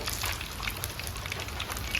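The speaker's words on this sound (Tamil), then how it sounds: "வெந்தயம்லாம் நல்லா செவந்து வந்து கடுகுலாம் நல்லா பொரிஞ்சு வருது" Fenugreek and mustard seeds splutter in hot oil over a wood-fired stove, a close, continuous crackle of rapid pops and fizzing with no voices.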